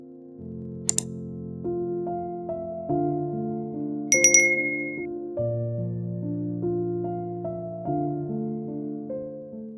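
A bright bell ding rings out once over soft sustained music, a brief metallic chime standing clearly above a calm, minimalist backing.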